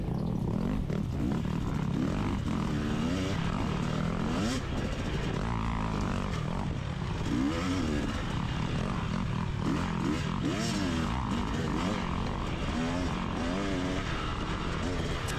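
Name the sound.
KTM dirt bike engine during cross-country race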